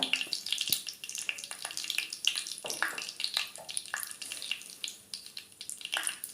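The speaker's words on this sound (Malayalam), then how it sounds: "അപ്പോൾ കടുക് പൊട്ടി തുടങ്ങി." Mustard seeds pop in about three tablespoons of hot coconut oil for a vala fish curry, with faint, irregular crackles and sharp little snaps scattered over a soft frying hiss.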